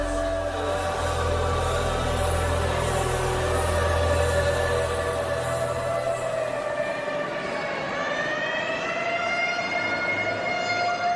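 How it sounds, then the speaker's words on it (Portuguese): An ambulance siren wails loudly and steadily nearby, with rising and falling tones sweeping throughout over a constant rumble, no voices. "a ambulância corria para a clínica Santa Eunice em O'Wary."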